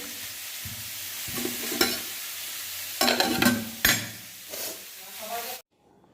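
Dal cooks in a pot on a home stove, sizzling under repeated stirring scrapes and clatter of a spoon against the pot, a few louder bursts of hissing, then an abrupt cutoff into silence near the end.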